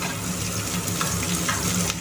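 Steady, loud sizzling of potatoes and onions frying in a hot pan, with occasional stirring scrapes and no talking.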